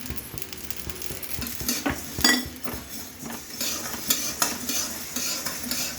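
Sesame seeds dry-roasting in a pan while being stirred, giving soft rustling and scraping with irregular clinks of a metal spoon against the pan, close and fairly quiet, with no talking.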